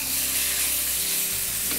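Strips of frying steak sizzle loudly and continuously in a hot wok, a dense crackling hiss throughout with a brief stirring scrape near the end.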